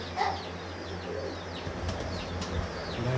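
A breeder pigeon held in the hands, its wings flapping in a few quick bursts against a low background hum, with faint cooing nearby.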